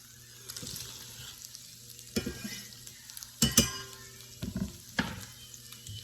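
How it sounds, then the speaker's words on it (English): Onions tossed into a greasy pan for fideo sizzle close by, with a few sharp bursts and stirring clatters as they hit the hot fat, otherwise a low steady frying hiss. "I'm gonna throw my onions in."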